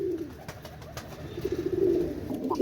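Musaldum teddy pigeons with fully white tails cooing softly nearby, a few low rolling coos building toward the end over faint background noise.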